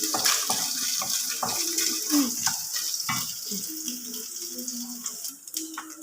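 Coconut pieces fry in hot ghee for adapradhaman with cashews and raisins to follow, a steady bubbling sizzle with scattered clinks and spoon scrapes close by.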